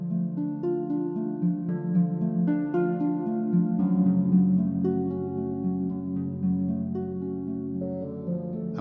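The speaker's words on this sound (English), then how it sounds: "So here I'm using the harp" Harp playing, a steady flow of plucked notes sounding close and clear on its own, sustained and even in level with no voices.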